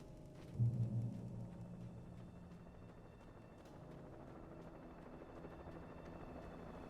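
Helicopter in the video game Alan Wake Remastered, a steady rotor drone at moderate distance that swells briefly near the start and then holds a constant low hum with no talk.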